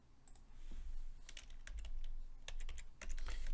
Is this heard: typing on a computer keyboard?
yes